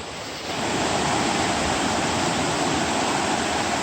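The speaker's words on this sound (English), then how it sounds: "Nice little wide cascade here" A wide cascade on a creek along a Great Smoky Mountains trail rushes steadily, a close, loud, continuous wash of falling water that swells in just after the start.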